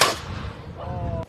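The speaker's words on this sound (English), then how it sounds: "I've been shooting the apple cannons with them." An apple cannon at a pumpkin festival fires one sharp, loud pneumatic blast at the start, followed by a short decaying outdoor noise and a faint tonal whine.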